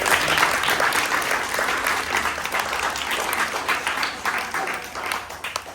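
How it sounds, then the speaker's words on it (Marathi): A room full of people at a ten-year-old boy's birthday party clapping loudly and continuously, dense applause that holds steady before easing slightly toward the end. "प्रथम सर्वांनी त्याच्यासाठी जोरदार टाळ्या"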